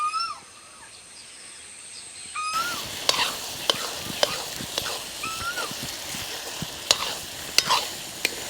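Vegetables frying and being stirred in a pan for Kathiyawadi-style pav bhaji, with sizzling under repeated sharp scraping and tapping of a spoon against the pan, starting quiet and growing busier.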